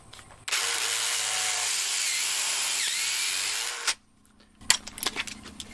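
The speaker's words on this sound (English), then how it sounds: "I have my pocket hole drill bit set to the right depth." A drill spins a pocket hole bit into a clamped wooden board in a jig during ceiling blocking work in a renovation. It makes a loud, steady whine for about three and a half seconds, followed by light clattering handling noises.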